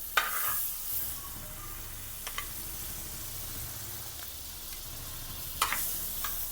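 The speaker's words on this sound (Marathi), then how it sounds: "मी तवा गरम करून घेतलेला आहे आणि हे बटर थोडा थोडा जास्तच तापला आहे" A faint, steady sizzle runs throughout, with a few light metallic taps, as butter fries quietly on a hot griddle for pav bhaji.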